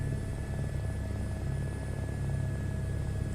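Helicopter rotor and turbine in a VR flight simulator produce a steady low drone with faint high whining tones, holding even throughout with no voices.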